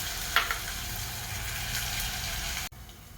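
Food sizzles steadily in a pan over a low flame, a soft continuous frying hiss with a small spatter early on, cutting off abruptly near the end.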